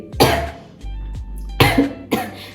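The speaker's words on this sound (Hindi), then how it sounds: "मुझे खांसी हो रही है" Three harsh, close coughs: one, then a pause, then two in quick succession, with a low steady hum between them.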